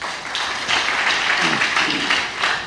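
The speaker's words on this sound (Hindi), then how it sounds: "मनोज सबके लिए ताली बजाओ" An audience at a church teaching session claps for Manoj, a dense, steady wash of many hands that carries on for several seconds with no break.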